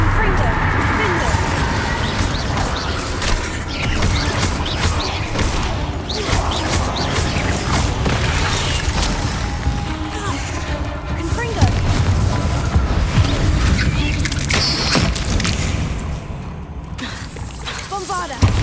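Spell explosions from Confringo and other combat spells in Hogwarts Legacy during a fight in a spider nest, repeated booming blasts and crashes over continuous battle noise, with a person talking throughout.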